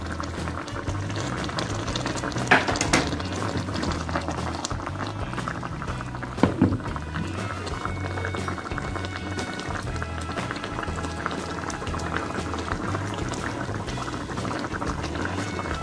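Catfish cooks gently over low heat in a pot, a continuous soft bubbling and simmering hiss that holds steady throughout with a couple of faint clinks.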